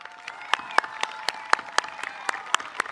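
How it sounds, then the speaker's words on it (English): Scattered hands clapping at a community gathering in Union, a round of applause for volunteers and coaches, with distinct claps in an uneven rhythm, moderately close, and no talking over them. "how about a nice round of applause for them?"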